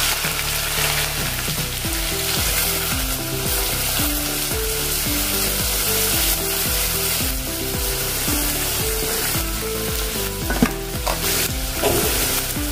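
Onions fry in hot oil with cumin and carom seeds for chole masala, a loud, continuous close sizzle with stirring, while background music plays underneath.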